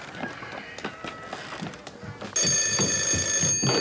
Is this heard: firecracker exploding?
no